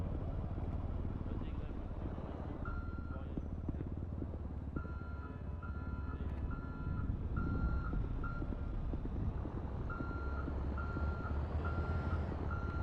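A truck reversing at a roadside scene where traffic cones are being cleared, its regular backup beeps repeating in short bursts over a rumbling diesel engine, with people talking nearby.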